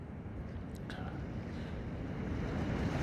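Ocean waves surge in a steady, broad wash with wind noise at a rocky coastal spot, growing slightly louder toward the end, with no talking.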